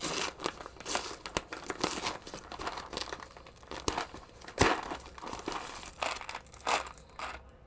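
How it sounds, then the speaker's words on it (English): Close crinkling and tearing of a plastic Amazon package holding keyboard switches, with irregular rustles, sharp crackles and occasional snaps continuing throughout. "So let's open up this package from Amazon, which I think has the switches in there."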